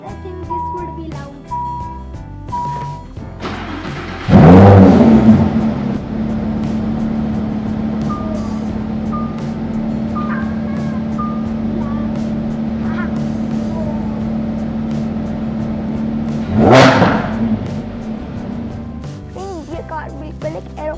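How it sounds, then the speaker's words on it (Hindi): A Lamborghini Huracan fires up with a loud, sudden burst of exhaust, settles into a steady deep idle drone, then gives another sharp rev near the end, while a person talks over it. "अब एक बार आपको कार स्टार्ट करके दिखाएं।"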